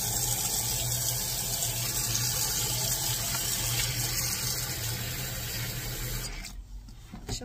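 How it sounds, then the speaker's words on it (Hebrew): Water runs steadily from a tap into a basin as water is poured out and refilled while washing a hairpiece with shampoo, a continuous close gush that cuts off near the end, followed by faint drips and handling. "מוציאה מים, שמה מים חדשים"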